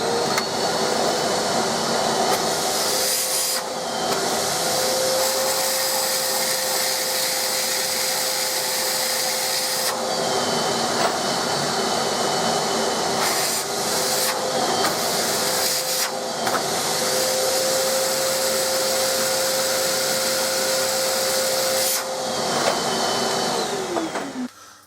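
A Nilfisk Aero 26-21 budget workshop vacuum runs a suction test with a loud, steady motor roar and whine, its pitch shifting briefly several times as airflow changes, with no talking.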